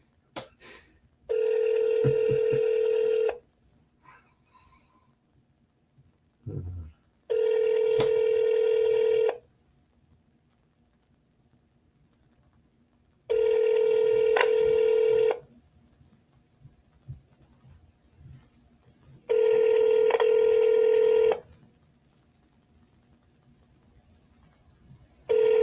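A telephone line rings while a Google Voice call is being connected, giving five loud, evenly spaced ring bursts of about two seconds each, separated by quieter gaps.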